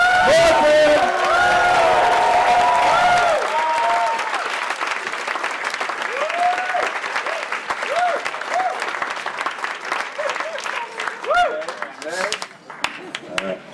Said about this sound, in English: And please give a warm round of applause to the groom, Mr. Andrew William Shakespeare.